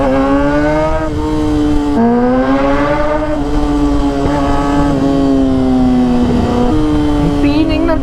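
A Kawasaki ZX6R sport bike's engine and exhaust roar loudly and close on a Batangas ride, the pitch climbing and dipping with throttle changes through several rev surges.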